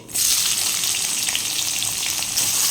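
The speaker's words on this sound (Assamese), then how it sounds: "এইফালে পিঁয়াজখিনি ভাজি আছোঁ" Sliced onions frying in hot oil with dried red chillies, bay leaves and cumin seeds make a loud, continuous close-up sizzle that starts suddenly and holds steady.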